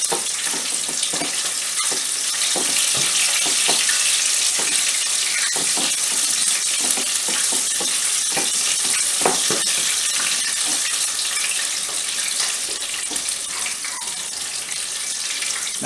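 Chicken legs frying in hot oil, a loud continuous sizzle and crackle with scattered sharp pops from the oil, steady throughout and with no talk.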